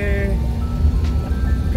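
A 20-year-old automatic van with a noisy engine gives a low, rough drone that runs continuously up close, with a short tonal whine early on and talk over the top.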